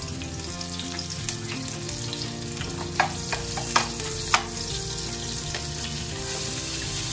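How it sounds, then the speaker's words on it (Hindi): Green chilies and papaya frying in hot oil with asafoetida for Gujarati fafda, a steady close sizzle broken by a few sharp clicks and pops as pieces are dropped in one by one. "हमने जो पपाया रखा था और ग्रीन चिलीज रखी थी उसे अब हम ऑयल में एक एक करके डालने"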